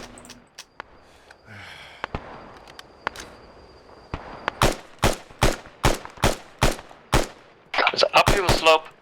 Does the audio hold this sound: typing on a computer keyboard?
no